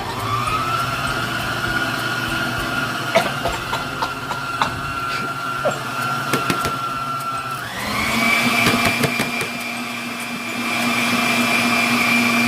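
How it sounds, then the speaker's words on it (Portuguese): An electric stand mixer running on its lowest speed blends baking powder into sponge cake batter, giving a steady motor whine that shifts pitch partway through, with scattered clicks and knocks of the beaters against the bowl. "posso deixar a batedeira no mínimo"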